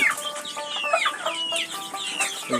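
Tiger chickens clucking and squawking on a poultry farm, a busy overlapping flock of many birds calling at once, fairly near and continuous, with a brief crow among the clucks and no speech.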